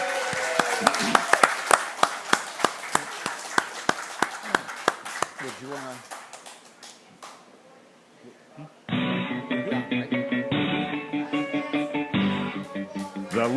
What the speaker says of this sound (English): How about a big old round of applause for Doc Batsleer?